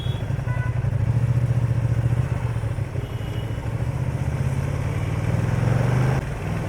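A powerful motorcycle rides through traffic in rainy weather, its engine a loud, close, steady throbbing drone that rises slightly in pitch as it pulls away, with faint clatter and no voices.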